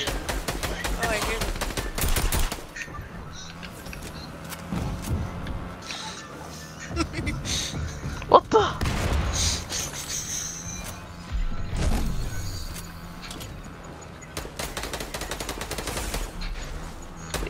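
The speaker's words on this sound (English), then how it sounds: "I hear shooting." Machine-gun fire in long rattling bursts, dense and loud throughout, with a voice and other noise mixed in over the shooting.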